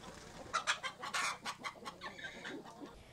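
Free-range chickens cluck in a series of short, fairly close calls with irregular rhythm, heard alone over a low steady background hum.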